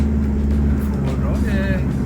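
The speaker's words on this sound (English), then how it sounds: "Interesting looking camper van." A camper van drives past on a beach on K'gari (Fraser Island), its steady engine rumble and tyre noise holding close and continuous under background talk.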